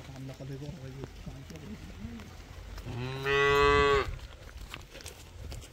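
A cow moos once, loud and close, a long drawn-out low call lasting about a second, with people talking before and after it.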